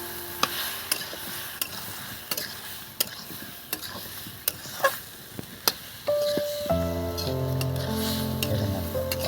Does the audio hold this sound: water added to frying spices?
yes